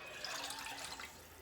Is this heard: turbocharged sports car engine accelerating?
no